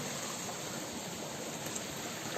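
A forest stream flows steadily, a continuous broadband rush of running water close to the microphone with no talking, still flowing strongly up in the hills in early summer.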